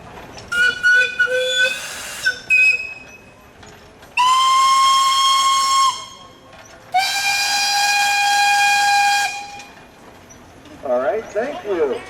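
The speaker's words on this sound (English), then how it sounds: "Russell, you have a whistle." A steam whistle on a 1911 Case 30 horsepower steam engine blows at a Pioneer Days steam show: a few short toots, then two long loud blasts, with crowd noise in between.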